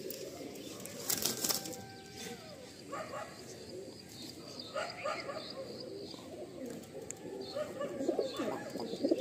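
Madrasi pigeons coo in low throbbing bursts, with several wing-flap flutters early on and faint chirps in the background.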